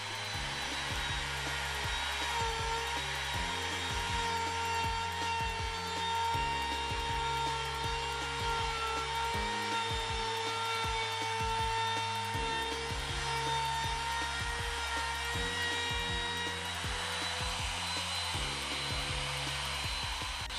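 A router runs continuously while cutting centre grooves in wooden slides for a bench vise, giving a steady high whine with a lower cutting growl that shifts in rhythmic passes, close and loud throughout, no speech.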